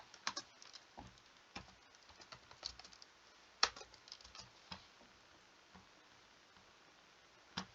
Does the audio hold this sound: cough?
no